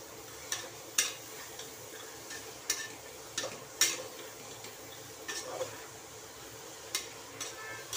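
Vegetables roast in a pan for masala bhat while a spoon stirs them, giving soft intermittent scrapes and light taps against the metal over a faint low sizzle. The sounds come close and fairly quiet, with no one talking.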